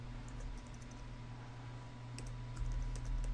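Computer keyboard keys click in a light, irregular run while a group name is typed on a Windows 8 machine, close and fairly quiet over steady background hum.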